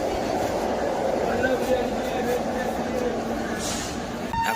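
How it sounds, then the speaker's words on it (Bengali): A Vande Bharat Express runs past with a steady, loud rolling rumble and rail noise from start to finish, heard from a nearby train or platform. "হঠাৎ দেখি টুন্ড্রা থেকে বন্দে ভারত বেরিয়ে যাচ্ছে"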